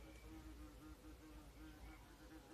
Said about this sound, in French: Bon, c'est un frelon asiatique.